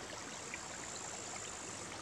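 Gentle, even burbling of a little woodland stream runs without a break, close and fairly quiet, with no voices or other noises on top.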